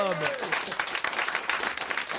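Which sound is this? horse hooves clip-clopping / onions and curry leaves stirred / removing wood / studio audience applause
studio audience applause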